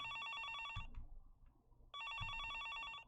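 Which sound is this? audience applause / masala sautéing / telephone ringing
telephone ringing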